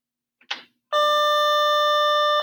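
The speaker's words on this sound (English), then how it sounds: "that's a bell." After a brief soft knock, an electronic bell rings out as one loud, sustained steady tone that carries on to the end in a quiet room.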